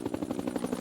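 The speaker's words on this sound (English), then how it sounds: "The helicopter was nearing the African coast as Dillon briefed his troops." A military helicopter flies toward the African coast, its rotor beating in a fast, even thump of about a dozen pulses per second, fairly faint and unbroken, with no voices.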